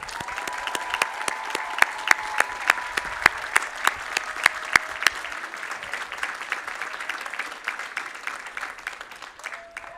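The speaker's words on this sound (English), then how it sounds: "give your families and friends, colleagues and mentors a big round of applause" A graduation commencement audience applauds loudly and steadily, dense clapping from a large crowd that holds for the full stretch before slowly thinning toward the end.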